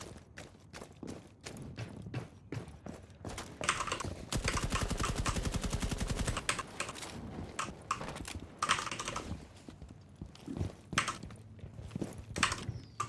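Sharp, repeated pistol shots in a video game fire in quick irregular bursts, with a denser run of rapid shots in the middle, close and fairly loud over faint background game noise.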